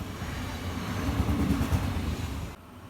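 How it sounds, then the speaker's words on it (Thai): A heavy, rumbling roar swells and rolls past nearby for a couple of seconds, then cuts off abruptly to quieter background noise. "รถไฟมาพอดีค่ะ ทุกคน รอรถไฟค่ะ"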